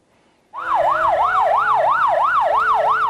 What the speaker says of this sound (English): A vintage fire truck, sirens blazing, kicks off an iconic parade.